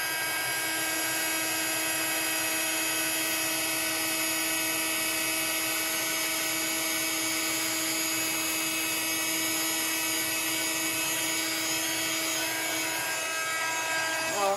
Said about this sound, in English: You can always just go back in with your heat gun if you have as well.